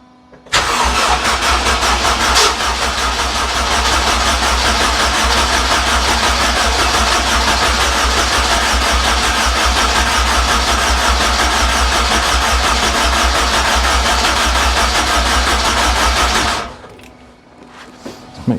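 A Honda K20 engine swapped into a Toyota MR2 MK3 cranks and fires on its first start, then holds a loud, steady close-up idle for about fifteen seconds before cutting off abruptly, with no talk.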